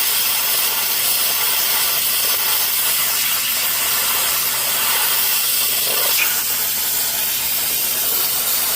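A Harbor Freight steam cleaner hisses continuously in a loud, broad, steady rush of steam that barely changes, with a brief scrape near the end and no voices.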